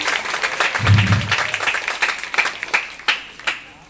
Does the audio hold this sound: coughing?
no